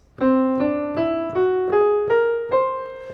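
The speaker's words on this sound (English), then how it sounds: "It's called the whole tone scale, and it sounds like this." Piano plays a rising whole tone scale, six even, sustained notes stepping upward one by one, each struck cleanly and left to ring.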